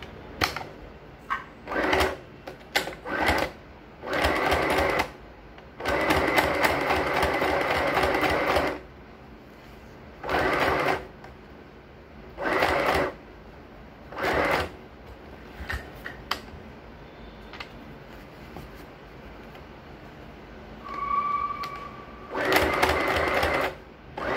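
A sewing machine stitches along the edges of a thick trouser waistband, its rapid clatter coming in repeated short bursts with pauses between, close and clear with almost no talk.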